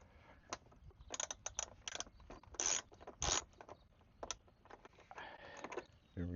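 A wrench breaking loose a 10 mm bolt on a Jeep Gladiator door-mirror mount, heard as close, irregular ratcheting clicks and scraping metal bursts with short pauses between them.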